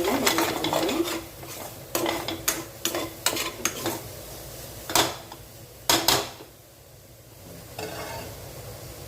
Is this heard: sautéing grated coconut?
yes